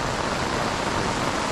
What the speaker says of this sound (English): But look at the flow of water.